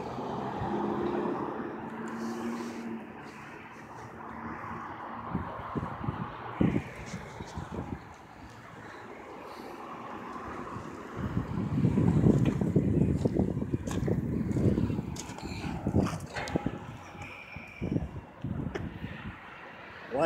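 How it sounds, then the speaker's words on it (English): Strong wind blowing outdoors at about 60 miles per hour, buffeting the microphone in rough continuous gusts with passing traffic noise and brief voices in the background. "The wind's blowing from the south to the north."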